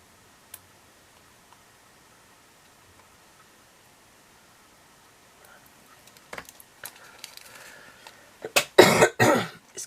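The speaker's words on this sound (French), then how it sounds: "Excusez-moi, je tousse toujours autant." A woman doing diamond painting of a grey cat coughs several times in quick, loud, close bursts near the end, after a long stretch of near silence with faint ticking and soft handling sounds.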